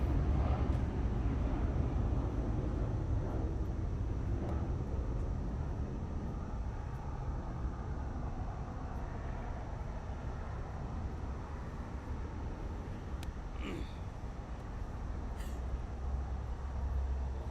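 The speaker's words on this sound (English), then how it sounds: "there's the Dreamliner One World JAL, Japan Airlines, taking off" A Japan Airlines Boeing 787 Dreamliner takes off at Los Angeles International Airport, its engines giving a steady, broad, distant roar that holds for the whole stretch with no one speaking.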